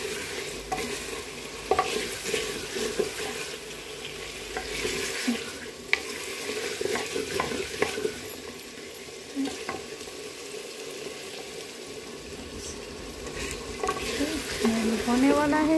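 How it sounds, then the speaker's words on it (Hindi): A spoon scrapes and stirs through chicken palak masala frying in a pan, with a steady sizzle underneath and irregular stirring strokes continuing throughout. "और फिर अच्छे से इसमें चमचा हिलाते रहिए"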